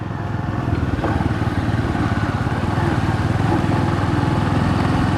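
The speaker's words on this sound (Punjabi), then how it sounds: "ਦੇਖੋ ਕਿੱਦਾਂ ਜਾਣ ਲੱਗੇ ਐਕਟਿਵਾ" A Honda Activa scooter rides along a rough, unpaved village road in Punjab, its small engine humming loud and steady throughout, close up, with a constant rumbling drone and faint rattles from the uneven track.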